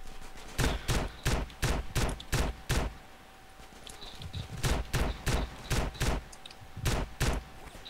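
Gunfire in GTA San Andreas multiplayer, two bursts of evenly spaced sharp shots, about eight each, separated by a short quiet gap, fairly close and loud.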